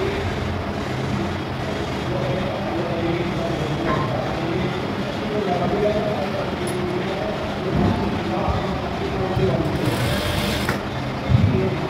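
Sewing machine stitching a back-neck latkan onto a Punjabi suit, a steady close mechanical whir and rapid needle chatter running throughout with slight surges, no talking over it.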